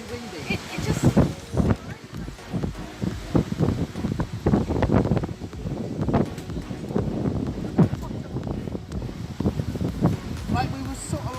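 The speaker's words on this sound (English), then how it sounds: "Oh my god, it's wind. It's very windy." Gusty wind in London buffets the microphone with a continuous rumbling roar, while a person talks under it.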